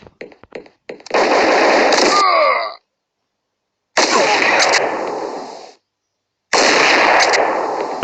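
Gunfire in the video game Crisis Action comes as dense rapid-fire bursts, loud and close, in three long volleys separated by short pauses, with a few single shots at the start.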